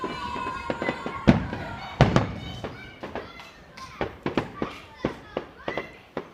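Summer fireworks and firecrackers going off at some distance, a run of sharp bangs and thuds at irregular intervals, a few louder than the rest, with faint voices of children in the background.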